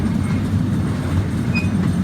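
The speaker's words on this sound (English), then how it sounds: "Thank you for riding this little train ride" Small tourist train rolling along at Old Tucson, a steady rumble of wheels and carriage noise throughout with a brief squeal near the end, no talking.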